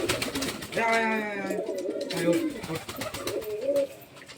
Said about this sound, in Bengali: ওই কি পায়রা ও ওটা?